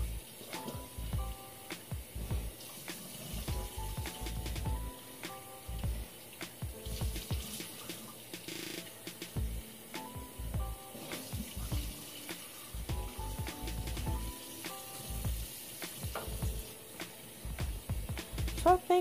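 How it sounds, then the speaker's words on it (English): A washcloth is rinsed under a running bathroom sink faucet, with a steady stream of water splashing and hissing throughout, plus soft handling sounds and wringing splashes close by. "So I think I'm also like rinsing my washcloth out at this point."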